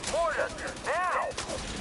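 Mortar fire in The Division 2 video game: two loud booming blasts with a warbling descending tail, close and heavy over a dense rumbling bed of combat noise.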